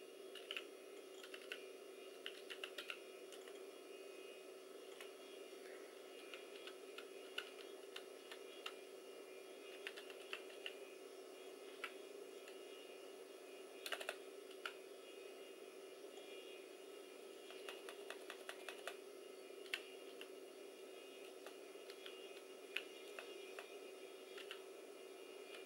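Keys clatter on a Toshiba Satellite T6600C laptop keyboard in short irregular bursts, quiet and close, over a steady machine hum.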